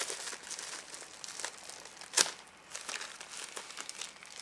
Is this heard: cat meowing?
no